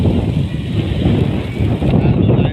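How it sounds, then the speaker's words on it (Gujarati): Strong gusty wind ahead of an approaching storm in Manpura village buffets the microphone outdoors with loud, continuous low rumbling and roaring. "જોઈ લે મિત્રો પવન"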